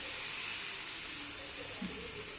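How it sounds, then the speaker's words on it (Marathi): Varai (bhagar) dhirde batter spread thin on a hot tava gives a steady, moderate sizzling hiss that holds evenly throughout with no talk. "तवा छान तापून घ्यायचा आणि धिरडा असं एकसारखं छान पसरून घ्यायचं"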